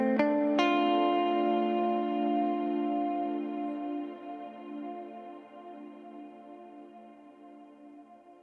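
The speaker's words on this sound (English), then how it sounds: "here's a guitar lead riff with the decay turned up to 20 seconds." A guitar lead riff played through Valhalla Room reverb with a 20-second decay: a few plucked notes ring out, then a long, shimmering tail slowly fades while staying clearly audible throughout.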